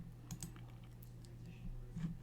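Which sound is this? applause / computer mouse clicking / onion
computer mouse clicking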